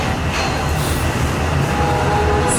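Disneyland Railroad train rolls steadily, a loud continuous rumble of wheels and carriage noise heard from inside the train, with no break across the clip.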